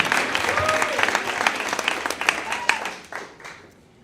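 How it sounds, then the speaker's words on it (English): An audience at a Moth StorySlam storytelling event claps and cheers in a lively burst of applause that thins out and fades away near the end. "Keep that applause going for Jennifer."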